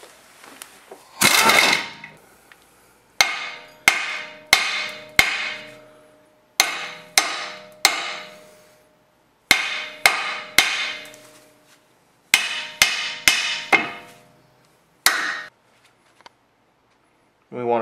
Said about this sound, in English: strike the wheel hub assembly with a hammer right here